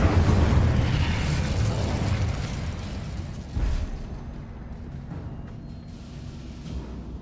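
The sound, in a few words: Incendio fire spell blast, Hogwarts Legacy video game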